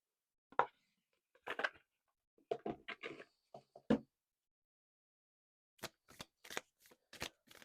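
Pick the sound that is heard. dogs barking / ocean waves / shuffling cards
shuffling cards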